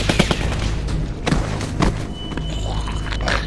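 Bursts of gunfire and heavy thuds in The Walking Dead season 2 video game, with rapid sharp reports clustered irregularly over a constant low rumble, close and loud.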